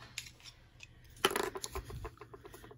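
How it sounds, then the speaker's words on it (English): A few crisp snips of scissors cutting through faux leather, close up, with light handling clatter between cuts. "Let me get a sharper pair of scissors."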